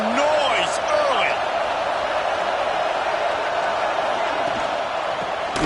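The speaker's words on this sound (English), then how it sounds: "This crowd bringing the energy and noise early." A dense, steady roar from a packed football stadium crowd at an Oregon game, loud and continuous throughout, with a commentator's voice running over it.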